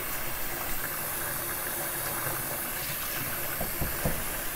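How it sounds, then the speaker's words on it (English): Water pours steadily into a kitchen sink holding warm water and OxyClean detergent, a constant broad hiss of running water with faint splashes, no talking. "let your sink continue to fill"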